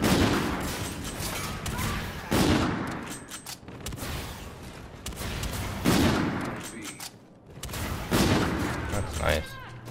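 Sniper rifle gunfire in a video game, several loud sharp shots spaced a few seconds apart with echoing tails, mixed with game noise and voices talking over the action.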